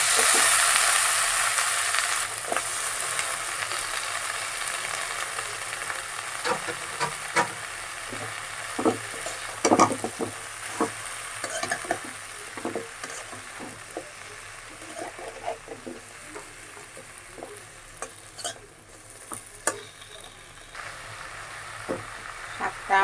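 Malabar spinach and garlic sizzle and fry in a pan, with a steady hiss and scattered sharp clicks and scrapes of stirring throughout, close and alone with no talking.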